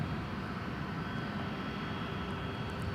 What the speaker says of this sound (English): And that is the A300 from Louisville, Kentucky.